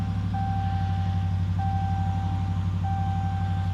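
A 2019 Dodge Ram Rebel pickup truck engine running at a steady low idle hum, with a high electronic chime beeping three times at regular intervals over it.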